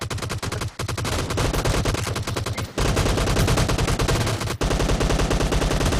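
Dense rapid gunfire in PUBG Mobile, continuous automatic bursts with only brief gaps, loud and close throughout.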